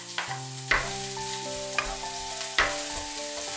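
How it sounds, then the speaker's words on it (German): Spring onions and garlic sweat in hot oil, a soft sizzle broken by a few clinking utensil taps and scrapes, with no voices. "Nochmal Öl erhitzen. Lauchzwiebeln und Knoblauch einschwitzen."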